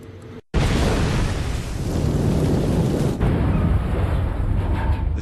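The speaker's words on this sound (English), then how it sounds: "It was an enormous explosion." A torpedoed ship blows up as its cordite magazine detonates: one sudden, massive blast that breaks into a loud, sustained roaring rumble lasting several seconds.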